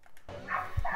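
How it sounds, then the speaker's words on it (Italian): Neighbours' dog barking, a single short muffled bark heard at a distance behind a game soundtrack. "Sento un cane."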